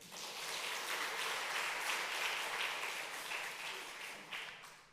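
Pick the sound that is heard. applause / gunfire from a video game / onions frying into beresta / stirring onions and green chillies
applause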